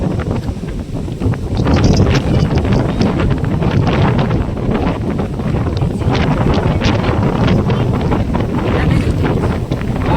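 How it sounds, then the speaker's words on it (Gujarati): Strong storm wind buffets an outdoor microphone in steady, roaring gusts with rumbling low-end turbulence and rustling debris, loud and continuous throughout with no voices. "વાવાઝોડું આવે એટલે વંટોરિયામાં આટલું બધું આવે"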